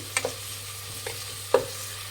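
Onions and green chillies frying in a pan for coconut rice, a soft, steady sizzle under a low hum, with three brief spoon scrapes against the pan.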